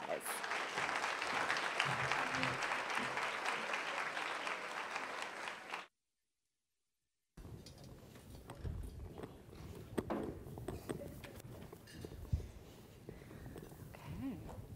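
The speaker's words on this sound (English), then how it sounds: "Warm round of applause." Loud, steady audience applause fills a conference hall, breaks off into a brief silence, then gives way to murmuring and shuffling noise.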